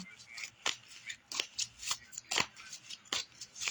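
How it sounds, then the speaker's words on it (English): Tarot cards are riffled and shuffled by hand in a string of crisp, close flutters and slaps, several bursts in a few seconds, with no talking over them. "I'm just pulling the cards for clarification"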